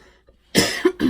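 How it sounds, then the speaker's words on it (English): A single loud, close cough from an adult bursts out after a quiet stretch, with a harsh voiced tail and a short second catch at the end. "I'm sure y'all are tired of hearing me cough in this video"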